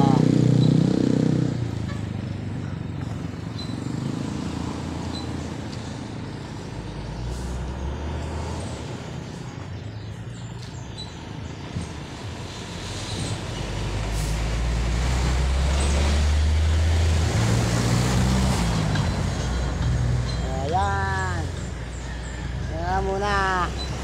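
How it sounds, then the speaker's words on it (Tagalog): Heavy traffic on the Maharlika highway gives a steady roadway roar of trucks, buses and motorcycles, with a louder rumbling pass midway, air-brake hisses and a few horn-like tones near the end, under occasional talk. "Buhul-buhul na ang traffic niyan."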